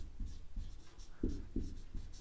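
Writing on a board or paper, close and fairly faint, a run of short scratchy strokes in an uneven rhythm with no speech over them.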